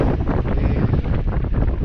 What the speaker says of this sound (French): Le vent est un petit peu tombé. On est à 12-13 nœuds.